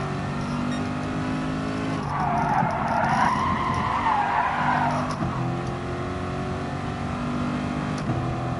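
A Corvette race car at Laguna Seca in a racing game: a steady engine drone, with a rising tire squeal and skid from about 2 to 5 seconds, close and loud, no talking.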